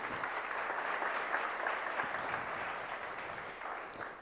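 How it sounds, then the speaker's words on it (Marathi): Steady applause from an audience at a project competition prize distribution, a dense even patter of clapping held at moderate volume for several seconds. "त्याच्यासाठी जोरदार टाळ्या झाल्या पाहिजे."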